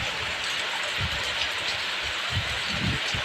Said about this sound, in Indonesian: Tuh besar banget tuh anginnya.